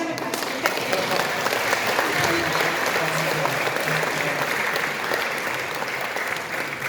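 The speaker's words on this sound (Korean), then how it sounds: "다시 한번 박수 부탁드립니다" An audience at a formal commemorative event applauds in a steady, dense wash of clapping that holds at an even level throughout.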